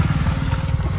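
Motorcycle engine running close by with a steady low throbbing rumble that stays loud for the whole short stretch, without any voices over it.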